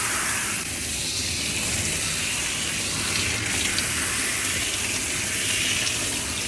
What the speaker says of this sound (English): This is rinsing out very fast, as you can see.